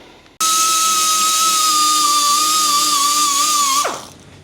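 A handheld power tool deburrs and smooths a weld on a steel FXR motorcycle frame, a loud, high-pitched grinding whine that starts abruptly, holds steady for several seconds, then spins down.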